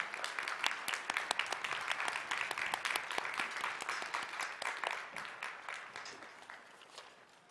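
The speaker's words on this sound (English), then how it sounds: "Let's give them a round of applause and thanks." Graduation audience at a high school ceremony claps steadily for staff members, a dense crackle of many hands that gradually thins toward the end.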